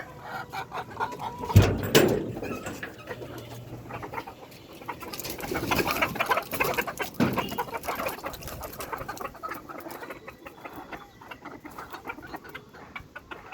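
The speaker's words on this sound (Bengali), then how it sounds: "এখন মুরগি ছেড়ে দিব।" Fayoumi chickens clucking and squawking nearby on a farm, with a sharp burst of flapping or squawks early on, then steady scattered clucks over background noise.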